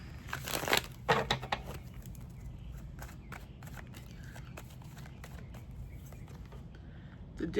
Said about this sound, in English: So let me shuffle one more time, and then let's get into it.